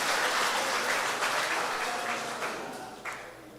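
A church congregation claps steadily and loudly, a dense wash of applause that gradually thins out toward the end.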